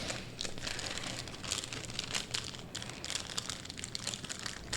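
Playing cards for the Dead of Winter board game are shuffled by hand at a table, a soft continuous riffling and rustling with quick fluttering bursts, faint and close with no talk.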